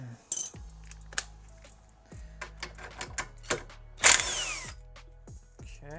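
A power tool spins off bracket bolts during a coilover install on a Hyundai Veloster: short whirring bursts with clicks and metallic clatter, plus a brief louder rattle partway through.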